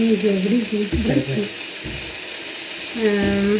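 Sliced onions frying for a beef fry crackle and sizzle in a pan, close and steady, with someone talking over the cooking.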